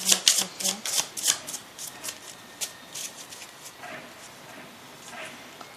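A pile of cards is shuffled for a card reading, close and crisp, with fast riffling flutters and slaps early on that thin into softer, sparse card sounds as the shuffling slows.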